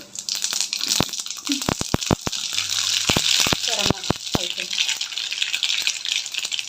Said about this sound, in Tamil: வானலியில் ஆயில் விட்டு கடுகு